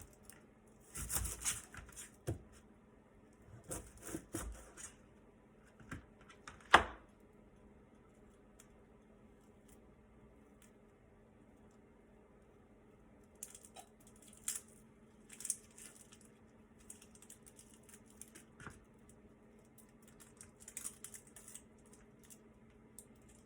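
A knife dices a red onion on a cutting board: scattered bursts of quick, soft chopping and tapping, quiet and close, separated by pauses, with a faint hum in the background.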